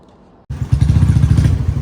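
A new motorbike's engine starts after a moment of near silence, then settles into a loud, close, steady rumble with a low, pulsing beat as the ride gets going.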